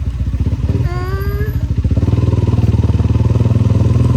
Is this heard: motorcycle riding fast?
yes